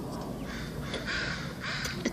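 Crows caw from the treetops during a bird watch, a few harsh calls over a steady outdoor background, moderately distant, with no talking.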